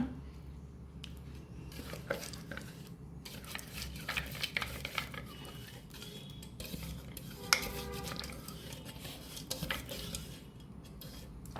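Dosa batter made from a fine ground paste being stirred and mixed in a bowl, with soft wet squelching and occasional clinks of a utensil against the bowl, steady and close, no talking.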